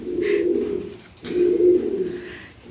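Domestic pigeons of a fancy breed coo in two slow, resonant, throaty bursts with a brief pause between them, close by and clear against a quiet background.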